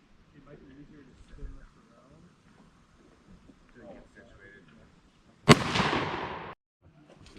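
A single loud rifle shot fired while sighting in a rifle outdoors, a sharp crack with a trailing decay lasting about a second, following quiet conversation between people nearby.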